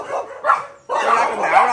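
A fat dog from Côn Đảo gives a few short, loud barks close by, the second burst longer and more drawn out.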